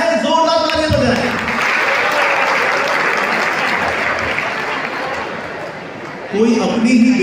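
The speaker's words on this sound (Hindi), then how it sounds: "जोरदार तालियां बजाएं।" Loud, sustained applause from a large school audience fills the whole stretch, with talk faintly mixed in and a voice rising at the very end.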